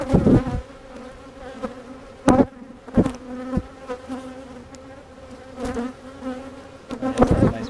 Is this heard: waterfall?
no